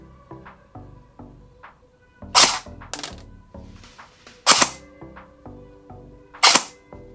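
An SRC steel MP40 airsoft gun with electric blowback fires three sharp single shots, each a loud clack with mechanical rattle, spaced about two seconds apart among quieter handling clicks.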